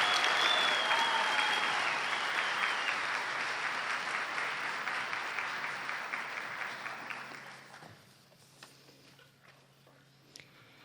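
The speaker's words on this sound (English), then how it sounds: "Can we get a round of applause for the class of" Sustained audience applause for the graduating class of 2023 at a National Honor Society induction ceremony, loud and dense for about eight seconds, then thinning to scattered claps before fading out.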